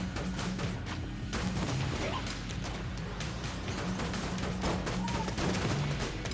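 Rapid gunfire fills a session of the video game Enter the Gungeon, a dense, continuous barrage of shots and impacts layered over game music and effects for the whole stretch.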